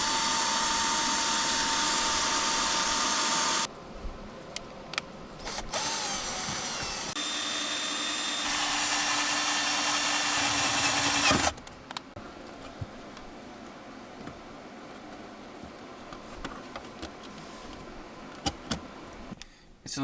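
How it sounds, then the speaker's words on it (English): A power drill bores into the interior of an E36 track car during a CAE shortshifter install, in two long, loud bursts separated by quieter clatter and ticking from the work. "So yeah, it's time to start drilling."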